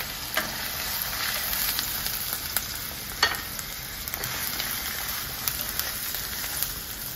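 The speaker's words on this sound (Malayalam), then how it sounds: "ഇനി ഇത് കുറച്ചൊന്ന് വഴണ്ട് വരണം, കുറച്ചൊന്ന് ലൈറ്റ് ബ്രൗൺ ആവണം." Ginger, garlic and green chilies sauté in hot oil in a pan for mango pickle, a continuous close sizzle and crackle with occasional louder pops and scrapes of stirring.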